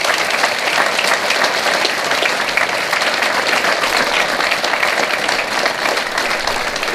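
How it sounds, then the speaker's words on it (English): Sustained audience applause fills a high school auditorium at a Veterans Day assembly, broad even clapping from a large crowd that holds steady from start to finish. "Please give all those people a round of applause."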